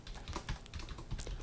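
Typing on a computer keyboard while labeling a bar graph in Google Docs, a quick irregular run of close, crisp key clicks and taps with no voices present.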